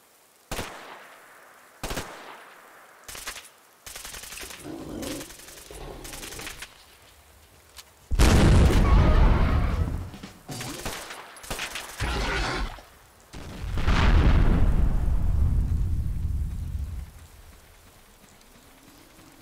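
Gunfire and explosions in a Fallout 4 zombie apocalypse modlist: sharp isolated shots, then long loud rattling bursts of automatic fire and blasts, close and harsh, with quieter gaps between.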